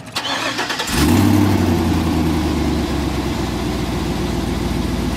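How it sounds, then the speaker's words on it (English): A truck's starter cranks briefly before the engine catches with a loud surge, then settles into a steady, close, rumbling idle. "I'm going to go ahead and start the truck"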